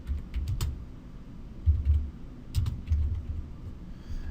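Keystrokes on a computer keyboard as a date is entered into a software form, coming in a few short bursts of clicks with pauses between them, close and fairly quiet.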